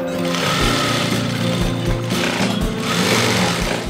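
An electric sewing machine stitches a designer patchwork chudidhar, running close and loud in a quick, even mechanical chatter of needle strokes that pulses steadily with a few slight pauses.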